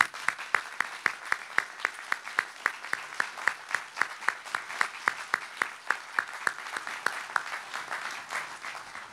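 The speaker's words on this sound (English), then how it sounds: "tonight we give Officer Phillips a round of applause." A crowd at a candlelight ceremony applauds Officer Phillips in a slow, rhythmic, unified clap, with sharp hand strikes landing at a steady beat over a soft bed of background clapping.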